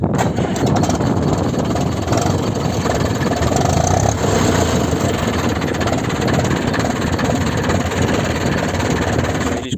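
An Ursus C-355 tractor engine idles during running-in, giving a loud, steady, close diesel rumble with a fast, even knock that carries through the whole stretch without pause.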